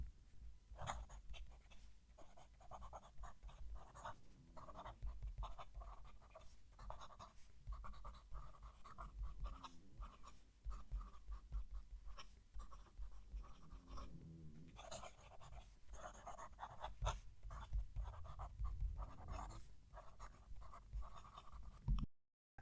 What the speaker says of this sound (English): I love the way the nib writes.